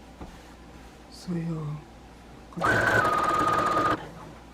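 Sewing machine stitching curtain fabric at home, a loud close mechanical whirr lasting just over a second near the end, after a stretch of talk.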